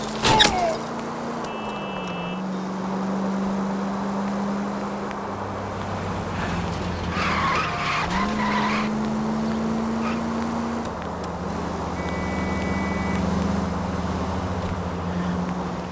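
A car engine drones and shifts pitch through a high-speed chase in a video game, with a burst of skidding or scraping midway and steady road noise throughout, no voices heard.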